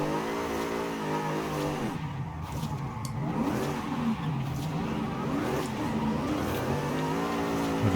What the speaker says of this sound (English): I'm gonna stretch my slide out as much as I can here.